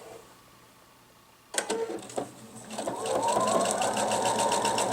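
A sewing machine stitches a seam around a pillow cover. After a quiet stretch it starts with a few sharp mechanical clicks, then settles into a loud, fast, steady whirring hum up close.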